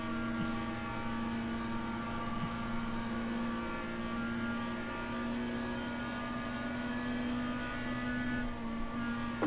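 BMW race car engine screaming past on the inside in iRacing at Iowa Speedway, a loud, steady high-pitched drone with strong harmonics and a slight pitch shift as it goes by.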